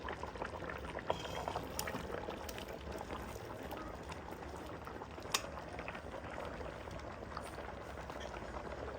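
Fish head curry bubbles steadily in a pot, a soft, continuous simmer heard faintly and close, with occasional small pops and no voices.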